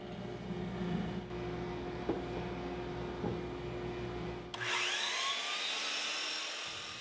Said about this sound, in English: I'll run the legs through the drum sander, taking a little off each side and removing the blade marks left by the table saw